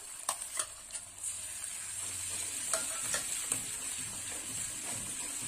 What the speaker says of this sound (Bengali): পেঁয়াজটা একটু লাল লাল করে ভাজা হবে।